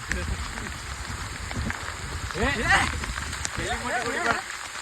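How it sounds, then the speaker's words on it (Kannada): Rain falls steadily near Barki waterfalls in a hilly, hidden spot, a soft continuous patter under louder talking voices that come and go. "ಬಹಳ ಕಡೆ ಮಳೆ ಹೊಂಟದ್ ಬಿಡ್ರಿ"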